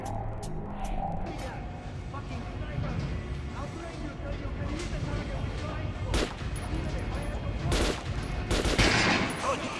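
Weapons fire in the video game Metro Last Light, a few sharp shots standing out over a continuous layer of gameplay ambience, with a voice talking faintly underneath.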